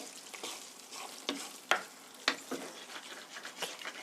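Penne in tomato sauce with a tablespoon of olive oil is stirred in a sizzling pan, with steady frying crackle and a few sharp scrapes and knocks of the spoon against the pan.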